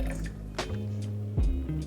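Espresso from a secondhand home machine dribbles and gurgles into a small cup for a brief moment, with short splashes and drips over a steady low mechanical hum.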